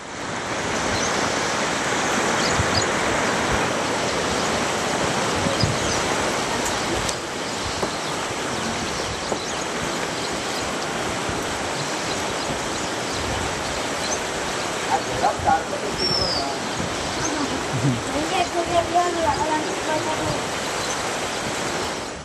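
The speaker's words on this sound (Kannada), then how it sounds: "ರಣಮಳೆಗೆ ಬೆಣ್ಣೆತೋರ ನದಿ ಉಕ್ಕಿ ಹರಿತಾ ಇದೆ." The Bennethora river overflowing and rushing in heavy rain, a continuous loud broadband roar of churning water that fills the whole stretch, with a voice talking faintly in the background.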